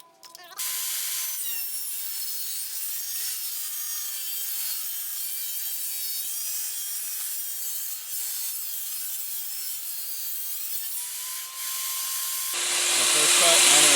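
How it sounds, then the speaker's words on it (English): A table saw set to a half-inch depth cuts a groove in wood for a rustic mirror frame. The blade whines in one continuous, fairly loud run, then the pitch changes at the end as the cut finishes. "So I've got the table saw set up to a 1/2 inch depth"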